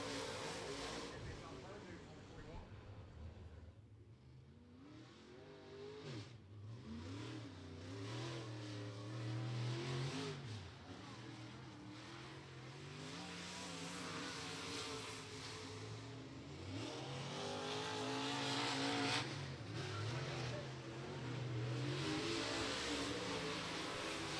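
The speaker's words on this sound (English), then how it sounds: "Chris Meadows there in the 33 machine, working down into turn number 1 and 2" A stock race car laps the Beckley Motor Speedway oval during qualifying, its engine rising and falling in pitch through the turns, heard from a distance under a commentator's voice.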